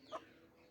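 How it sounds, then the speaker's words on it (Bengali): A native naked-neck country rooster at a poultry market gives a single short, faint cluck near the start, followed by quiet. "মোরগটা গলা ছেলা, দেশি মোরগ"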